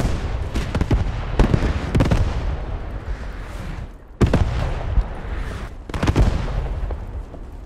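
Gunfire in the video game Post Scriptum on the Carentan map, with sharp, loud gunshots landing at irregular intervals over a steady rumbling battle background.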